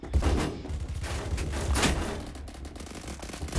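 Rapid gunfire from the first-person shooter Phantom Forces, dense bursts and sustained automatic volleys crackling close and loud throughout, with no voices over the shooting.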